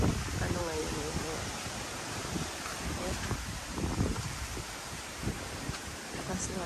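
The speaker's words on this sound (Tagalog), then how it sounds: "Lakas ng hangin." Strong wind gusting in a rural provincial afternoon, buffeting the microphone with a loud, broadband roar and rustling. It rises and falls unevenly and stays continuous throughout.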